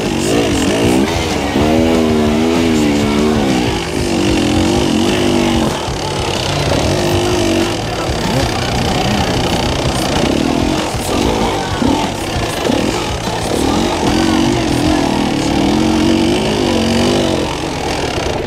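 An enduro motorcycle engine revs loud and close on a motocross track in Gryfice, held at high throttle with rising and falling pitch throughout. There are faint voices in the background.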